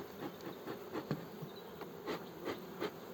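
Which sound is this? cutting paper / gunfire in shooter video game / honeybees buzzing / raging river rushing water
honeybees buzzing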